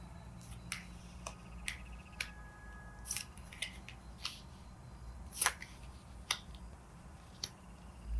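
Tarot cards being turned over one after another for a love reading: a series of crisp, close papery flicks and snaps at irregular intervals, quiet and alone against a faint background hush.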